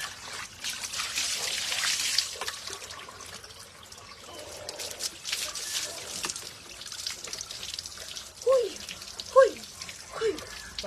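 Water pours and trickles steadily while a person bathes outdoors, a continuous splashing rush, with a voice speaking and exclaiming briefly near the end.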